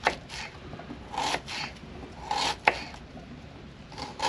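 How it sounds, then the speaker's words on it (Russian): A knife slices an onion into half rings on a board in a few crisp, uneven strokes, close and fairly quiet, with no talking. "Лук я нарезаю полукольцами."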